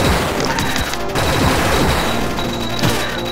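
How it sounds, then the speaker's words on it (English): Rockets firing in the video game Cave Story, a dense, loud barrage of rapid blasts and explosions with crackling impacts running continuously for a few seconds, with no pause and no voice. "Alright, time to use some of these rockets."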